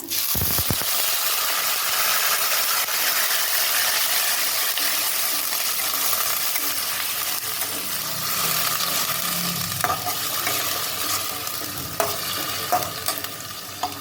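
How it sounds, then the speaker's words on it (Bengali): Onion paste frying in a pan after whole cloves, cardamom and cumin, a loud continuous sizzle with spoon scrapes and stirring clatter running throughout, close up and with no one speaking. "পেঁয়াজটা একটু ভাজা ভাজা করে নেব।"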